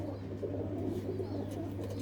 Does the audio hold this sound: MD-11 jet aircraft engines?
no